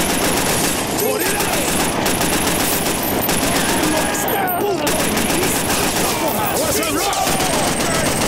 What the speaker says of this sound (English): I can't stand this gunplay.